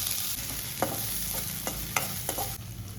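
Chopped garlic, ginger and green chillies fry in hot oil in a pan for momos filling, a steady close sizzle broken by a few sharp clicks of stirring.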